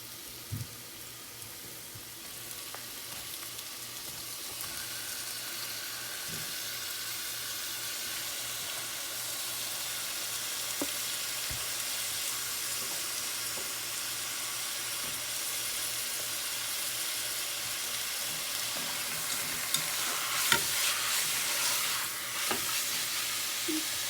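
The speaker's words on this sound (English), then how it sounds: "You stir until all the meat turn white." Pork sizzles in a pan for Vietnamese crepes (bánh xèo), with a steady frying hiss and occasional stirring scrapes. The sound builds slightly louder toward the end, with no talking.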